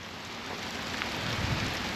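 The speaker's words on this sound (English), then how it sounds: "It is hailing right now." Hail falls outdoors on a farm and bounces off the ground, making a dense, steady hiss of tiny impacts, close and fairly loud, with no voices.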